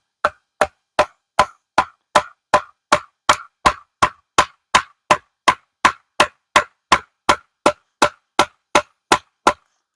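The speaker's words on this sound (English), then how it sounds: "I'm going to use this stick to hammer it." Steady, evenly spaced hammering blows with a stick, about two per second, sharp wooden knocks repeated without pause, close and fairly loud.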